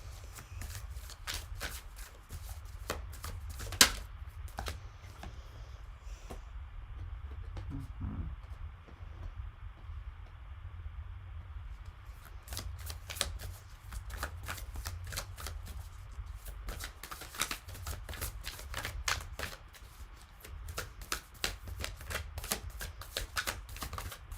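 Oracle cards are shuffled during a reading in quick bursts of crisp riffling and flicking, with a quieter pause midway before the rapid card slaps resume, close and clear with no talking.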